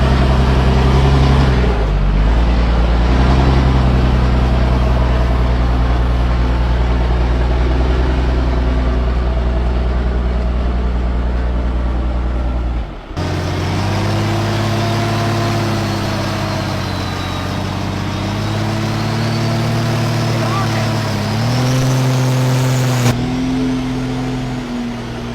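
A vehicle engine drones loudly and continuously up close while dragging a stuck truck up a steep slope on a kinetic rope, rising and falling in pitch as it strains and revs.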